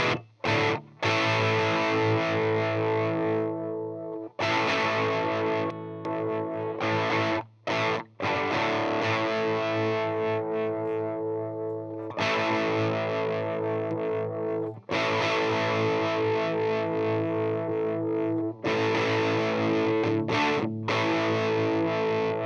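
Electric guitar played through a DIY CopperSound treble boost pedal breadboarded with substitution boxes, loud, bright and distorted chords and riffs ringing continuously with a few short pauses, no voices.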